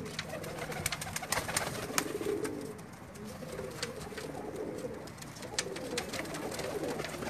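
Pigeons on a rooftop in Jeddah coo softly and repeatedly at a moderate distance, with faint chirps and light outdoor background noise and no talk.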